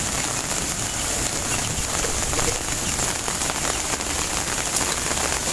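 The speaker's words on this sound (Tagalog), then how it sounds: "Kasi ang lakas ng ulan ngayon" Heavy rain pours steadily over a vegetable garden where chili plants grow, a dense, continuous hiss of drops hitting the ground and leaves, close and loud without pause.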